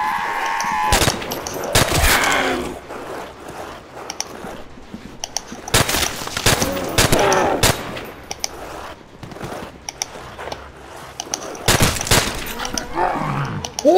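In Call of Duty: World at War zombies mode, loud bursts of gunfire crack in repeated volleys of rapid shots, separated by brief gaps filled with game noise and growling zombies.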